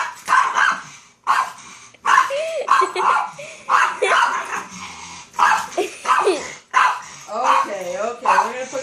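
A dog attacking a vacuum cleaner barks loudly and close in repeated bursts, mixing sharp yips and whimpering whines with short pauses between outbursts.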